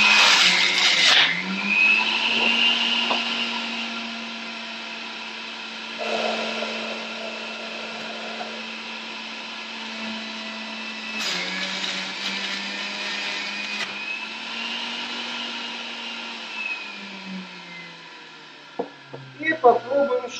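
A countertop juicer or blender motor runs steadily for about eighteen seconds, pressing cucumber and apple into juice, with a constant whine and slight pitch shifts as the load changes, before it stops and a few clicks follow.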